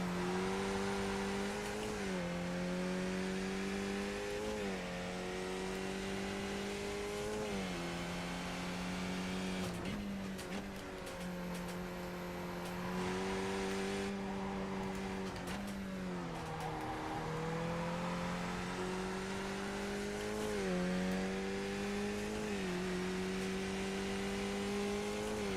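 A Skip Barber race car at VIR drones loudly and steadily from the cockpit, engine pitch climbing through each gear and dropping sharply at shifts, with occasional tire noise and no talk.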